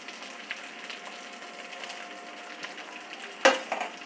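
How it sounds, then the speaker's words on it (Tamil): Curry leaves frying in oil for a curry leaf pickle, with a steady soft sizzle and crackle, light stirring, and a brief sharp clink of a utensil near the end. "அப்படியே இந்த எண்ணெயிலே அப்படியே வதங்கி அப்படியே எல்லாம் பொரிஞ்சு வரணும்"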